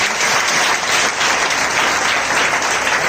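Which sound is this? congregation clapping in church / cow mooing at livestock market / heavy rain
congregation clapping in church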